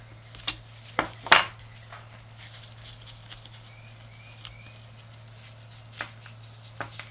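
A 1/2-inch bolt is worked loose from the carburetor bowl of a Tecumseh engine, giving a few sharp metallic clinks and scrapes up close early on, then sparse faint taps over a steady low hum.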